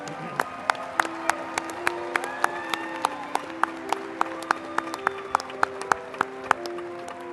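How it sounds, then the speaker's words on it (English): An audience at a university commencement claps for bachelor's degree recipients. The applause is moderately loud and runs throughout, with sharp, regular accents that could be individual claps or footsteps and sustained tones behind it. "We please have a round of applause for our bachelor's recipients."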